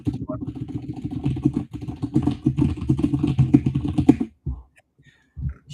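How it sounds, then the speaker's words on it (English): Rapid typing on a mechanical keyboard, a dense run of clicky keystrokes for about four seconds, then a pause and a few last taps, close and fairly loud. "It sounds fast because of the mechanical keyboard."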